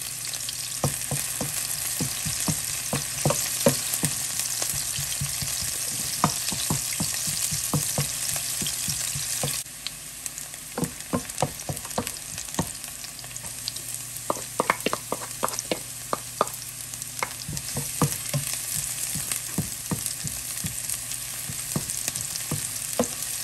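Chopped onion sautéing in a hot pan, a steady loud sizzle with repeated sharp scraping and stirring clicks from a utensil throughout, briefly quieter midway before the frying swells again.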